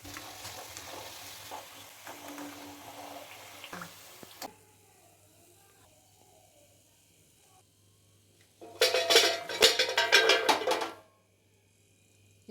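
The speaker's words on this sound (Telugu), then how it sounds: "లో టు మీడియంలో పెట్టేసుకొని బాగా గోల్డెన్ బ్రౌన్ కలర్కి వచ్చేటట్టు డీప్ ఫ్రై చేసుకోవాలి." Gavvalu made from wheat flour and jaggery deep frying in hot oil, a low bubbling sizzle at first, then a quiet stretch, followed by a loud crackling surge of frying for a couple of seconds before it cuts off.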